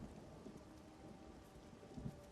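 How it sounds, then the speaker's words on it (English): Steady rain hisses and patters in Everyone's Gone to the Rapture, with a low rumble underneath and a couple of heavier drops, a continuous, fairly soft downpour with no voices. "Now it's raining again."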